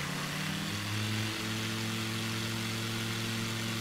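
Aircraft engine in Microsoft Flight Simulator 2020 drones steadily with layered tonal hums, one tone rising briefly as throttle increases, then holding at a continuous even roar.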